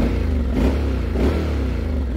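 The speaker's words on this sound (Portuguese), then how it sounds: "o ronco de dois cilindros" A Honda X-ADV 750 two-cylinder scooter engine idles and revs up close, a loud, throbbing, uneven rumble with a couple of blips in throttle, heard alone.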